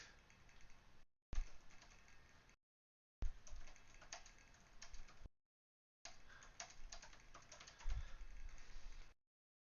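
Rapid clicking keystrokes on a computer keyboard as a tweet is typed, arriving in several bursts of steady tapping separated by short silences, close and fairly quiet with no talking.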